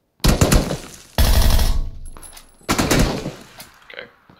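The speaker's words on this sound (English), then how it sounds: "Somebody's shooting at him." Bursts of rapid automatic gunfire in a rooftop shooter video game, loud close volleys separated by brief pauses, with faint chatter and game effects between them.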